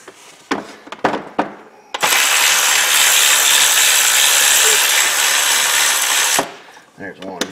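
A power tool, most likely an impact or ratcheting driver, runs in one loud steady burst of about four seconds while a socket removes a bolt on a Ford Explorer Sport Trac. Short clanks of tools come before and after it.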